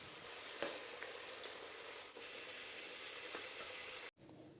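Chicken pieces frying in hot oil give a steady, dense sizzle, with a few faint clicks. The sizzle cuts off abruptly near the end.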